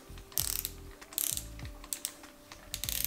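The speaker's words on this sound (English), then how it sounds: "pull forward pressure on the crank and torque the bolts the rest of the way" Ratchet wrench torquing main bearing bolts on a junkyard engine shortblock, close-up clicking in quick bursts with brief pauses between pulls.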